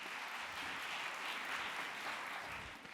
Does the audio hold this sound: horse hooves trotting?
no